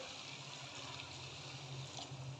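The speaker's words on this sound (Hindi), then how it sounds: "तो मैं इसमें गर्म पानी शामिल करने जा रही हूँ।" Hot water pours into a pot of dal mash keema, a faint continuous trickling splash running steadily for a couple of seconds with no voices.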